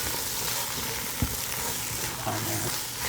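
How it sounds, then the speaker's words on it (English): Sweet Italian sausage frying in a single pan with other ingredients, giving a steady close sizzle throughout and a faint stir or clink partway through. "So we're just adding in that nice sausage there."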